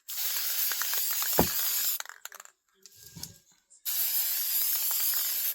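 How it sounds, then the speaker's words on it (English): Rust-Oleum frosted glass spray paint hisses onto glass jars in two sustained bursts of about two seconds each, separated by quiet handling noises and a short gap. "So I'm going to spray it."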